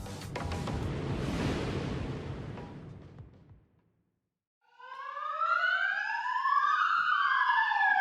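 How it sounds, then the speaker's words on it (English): After a burst of noise and a moment of quiet, an ambulance siren wails in loud, overlapping rising and falling sweeps. "They coming for me? That's the ambulance, isn't it?"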